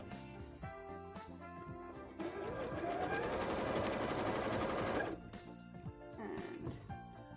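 A sewing machine runs a zigzag stitch on a bra, with a fast, dense mechanical buzz for about three seconds in the middle, framed by quieter handling sounds and faint music.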